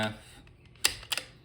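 A Timney trigger on a Savage Ultralite rifle breaks with a sharp, crisp click up close, followed by a second quick click, after a brief murmur of speech at the start.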